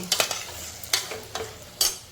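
Moong dal sautés in a pan while a spatula scrapes through it in a few sharp, separate strokes over a soft background sizzle, close and fairly quiet.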